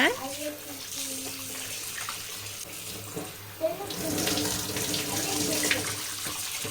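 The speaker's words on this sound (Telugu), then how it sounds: "ఈ ముక్కల్ని పసుపుతో అయితే నీట్గా వాష్ చేసేద్దాం" Running tap water splashes steadily as cut pond fish pieces are rinsed with turmeric, the flow continuous and close with brief clatters and swells of splashing.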